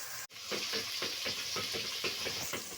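Onions and tomatoes frying together in a pan for keema, a steady close sizzle with soft rhythmic stirring scrapes repeating under it, no voices.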